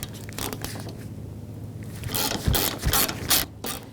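A T40 Torx driver works loose the fog light mounting bolts on a 1984-2001 Jeep Cherokee, giving a few close ratcheting clicks and scraping metal turns, sharpest near the end, with no talking.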